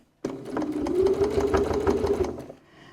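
A sewing machine back stitching while sewing a wallet, a steady fast needle chatter running continuously for about two seconds before stopping, close and clear with no talk.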